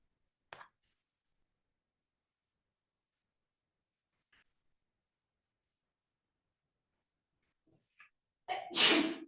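A single loud sneeze bursts out near the end of a quiet indoor Shabbat service, after long silence broken only by a few faint rustles.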